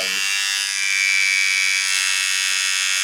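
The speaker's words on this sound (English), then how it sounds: "you could actually hear the AA battery going down in power like every few seconds" A steady, high-pitched electric buzzing from an AA battery-powered Wahl Deluxe hair trimmer losing power drones continuously and close up, with a slight wavering in its pitch as it runs.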